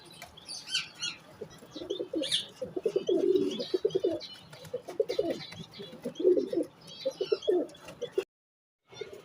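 Grey pigeons cooing in low, rolling bursts, with some wing flapping and faint chirps, close by, ending in a brief silence.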